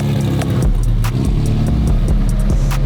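A 1300 hp McLaren 720 GTR race car creeps forward in first gear, its engine a loud, steady low rumble with shifting harmonic tones throughout, a few sharp clicks and knocks over the top.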